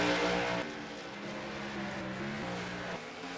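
Race car engine droning at high revs during qualifying laps at a Minnesota oval race, a steady harmonic roar with slight pitch shifts, continuous and fairly loud, with no talk.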